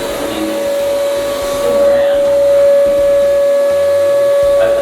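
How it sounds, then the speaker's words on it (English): A vacuum cleaner draws air from the bottom of a fuel tank during confined-space fuel tank welding preparation, producing a loud, continuous whine with a steady whistling tone over a rumbling airflow throughout. "That noise you can hear, the vacuum cleaner extracting all of the air from the bottom of the tank."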